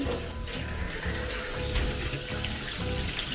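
Tap water runs steadily into a kitchen sink while tomatoes, onions, garlic and ginger are rinsed under it, a close, continuous splashing stream.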